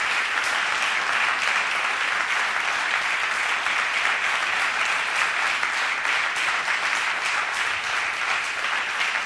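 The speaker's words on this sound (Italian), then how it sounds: "Applauso meritato" An audience at a public event on the 'ndrangheta with Nicola Gratteri bursts into sustained applause, a dense, even wash of many hands clapping that stays loud and steady throughout.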